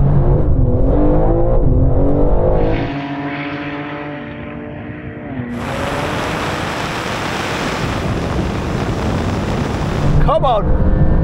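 A 750-horsepower BMW M3 and a Porsche 911 Turbo S drag race, with loud engine roar climbing through gears, a dip as the cars pull away, then a broad rushing surge of speed and wind noise.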